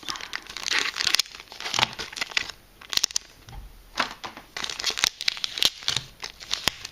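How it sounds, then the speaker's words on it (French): Crinkling plastic and sticky tearing sounds as tape is pulled off plastic-wrapped Pokémon card booster packs, in irregular close bursts with brief quiet gaps. "Je vais retirer le scotch qui les maintient."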